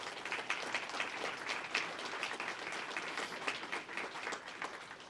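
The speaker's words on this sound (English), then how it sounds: "A round of applause for that." An audience claps steadily at a Pasadena police awards ceremony, a continuous wash of applause at moderate volume holding for several seconds without speech.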